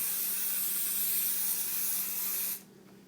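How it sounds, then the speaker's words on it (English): A steady, close hiss of spray adhesive being sprayed onto fabric lasts a few seconds, then cuts off abruptly. "Spray the next layer."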